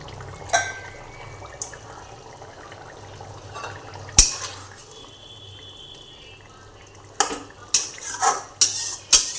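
Fried fish going into a simmering curry pot: a quiet bubbling base broken by sharp clinks of a utensil against the pot, a cluster of several knocks and scrapes near the end, close up.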